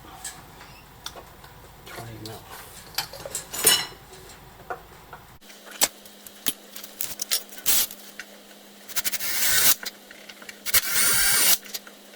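Bursts of high-pitched whirring from a power drill with a 6mm bit during a model RC boat build, several short runs with clanking metal and handling noises between them, close by.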